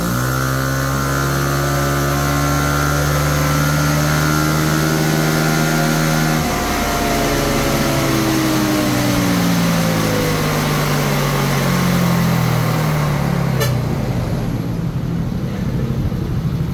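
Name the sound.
Uma M9 tuned scooter engine revving at 3,000 RPM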